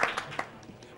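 Faint, distant audience applause at a live speedrun event for Metroid Prime, a few soft scattered claps fading quickly within a second.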